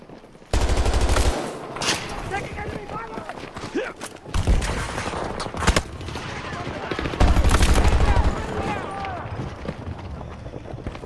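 M416 assault rifle fire in the video game Battlefield 2042. Sharp, loud, rapid automatic bursts come in several runs, with deep low-end thumps and other battlefield noise mixed in between volleys.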